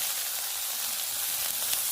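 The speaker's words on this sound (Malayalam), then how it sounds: "അതുകൊണ്ട് ഞാൻ കുറച്ച് കുടപ്പന ഇട്ടിട്ടുള്ളൂ ഇതൊന്ന് വറുത്ത് കോരിയെടുക്കാം നമുക്ക്" Banana flower fries in hot coconut oil, giving a dense, continuous close-up sizzle and hiss with no talking.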